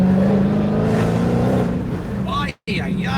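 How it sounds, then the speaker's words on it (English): Dodge Durango SRT engine with supercharger whine, a loud low drone and rising whistle from the cabin, broken by a brief dropout near the end before the engine sound resumes. "Can you guys hear that supercharger?"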